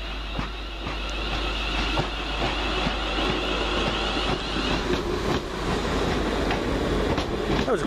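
A London Midland passenger service bound from Liverpool Lime Street to Birmingham New Street rolls past at Wolverhampton, a loud, steady rumble with rhythmic wheel clatter and a faint squeal running throughout.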